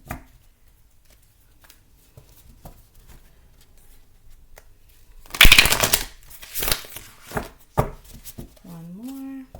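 Tarot cards being shuffled by hand in a series of crisp riffling bursts and soft patting, loudest in the middle, ending with a brief voice.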